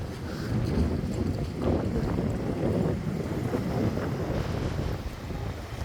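Strong wind at the beach at Scotts Head, New South Wales, buffets the microphone in a steady, loud roar, with a low rumble of surf and water beneath it and no voices.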